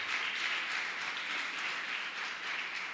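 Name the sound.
congregation applauding in church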